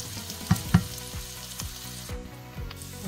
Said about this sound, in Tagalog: Dito natin igisa sa tinakuha natin ang ating karne